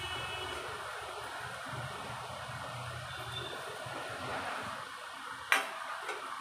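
Freshly grated coconut sautés in ghee in a pan over medium heat, a soft continuous sizzle with faint scraping and clinks of a utensil, steady throughout with one sharper metallic tap near the end.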